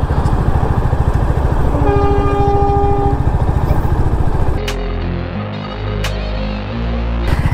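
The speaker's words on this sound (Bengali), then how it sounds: "এখনই একটা ট্রেন আসছে, ওই যে আমরা দূরে দেখতে পাচ্ছি ট্রেন। এটা হয়তো লোকাল ট্রেন হবে" A short local train passes on a railway in Uttar Dinajpur, giving a loud, continuous rumble of wheels on rails with a steady low hum and tonal squeal or horn-like notes throughout.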